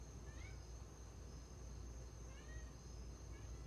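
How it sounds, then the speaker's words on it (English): A couple of faint cat meows sound at a distance over a quiet background hum, with a steady high insect-like tone. "Yes, that was a cat."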